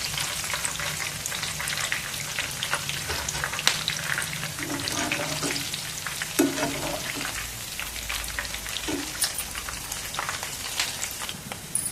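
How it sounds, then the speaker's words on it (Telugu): Peanut pakoda fritters frying in hot oil, a steady dense sizzle and crackle running throughout, close and fairly loud with no talk over it. "ఇలా అయితే కొంచెం వేగనివ్వండి, పచ్చి వాసన పోయే వరకు."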